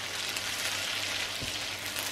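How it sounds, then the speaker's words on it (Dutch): Sweet potato gnocchi frying in sage butter over raised heat, giving a steady, close, dense sizzle that runs throughout with no talking. "dan gaat die gnocchi nog een beetje bakken en bruin kleuren"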